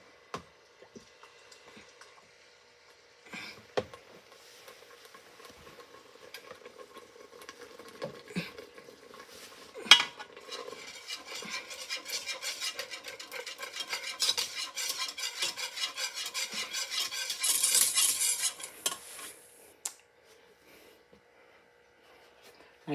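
Chicken Alfredo sauce stirred in a pan, a soft, intermittent scraping and squishing that builds to a steadier rasp of utensil against the pan, with occasional sharp clicks, fairly quiet and without speech.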